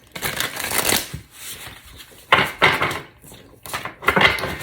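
Oracle cards being shuffled by hand, a run of crisp riffling bursts separated by short pauses, close and fairly loud, with no voices.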